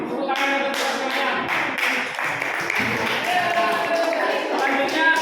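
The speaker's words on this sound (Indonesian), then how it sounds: "tepuk tangan untuk semuanya" A classroom group claps together in a burst of scattered, overlapping hand claps, lively and near, with voices talking among the applause.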